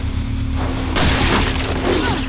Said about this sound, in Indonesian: Awas, awas, meledak, awas, meledak.